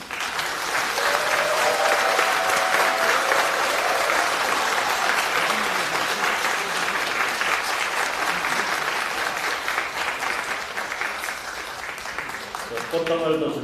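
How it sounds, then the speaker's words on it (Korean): Sustained, loud applause from the audience at a party preparatory committee launch ceremony in Korea, filling the hall as four co-chairs come to the stage, with a voice over a PA faintly audible beneath it. "여러분 인사드릴 때 힘찬 박수로 격려해 주십시오."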